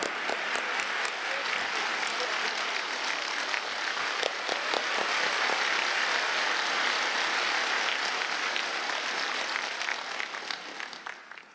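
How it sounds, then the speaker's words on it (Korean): A church audience gives sustained applause for a guest speaker, a dense, even wash of many hands clapping that swells, holds and then tapers off toward the end. "크게 박수해 주시기 바랍니다."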